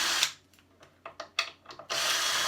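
A power drill backs screws out of the bottom of a table in short, bursty whirs and clicks, then one longer sustained run at the end, fairly close.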